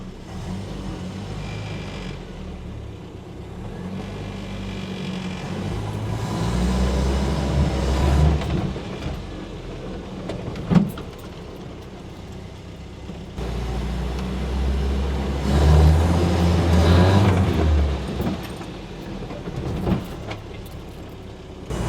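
A restored 51-year-old Land Rover drives in low-range four-wheel drive, its engine droning loudly and rising and falling through revs, with a few knocks and rattles from the vehicle along the way.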